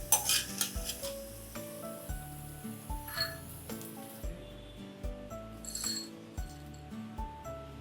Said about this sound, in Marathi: आपल्याला परतून घ्यायचे बघू शकता सांडगे झालेले आहेत आता ते काढून घ्यायचे